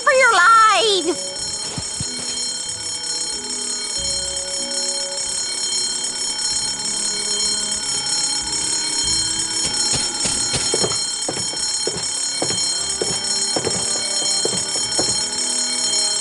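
A fire alarm rings steadily and continuously in the video game Escape from Monkey Island, a dense bell-like clamor filling the whole stretch, with a voice briefly heard at the very start.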